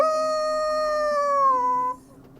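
A human voice imitating a wolf howl: one long, sustained, gently falling tone that holds for about two seconds and then cuts off, close and clear, with nothing else heard.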